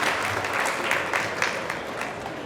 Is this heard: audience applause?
yes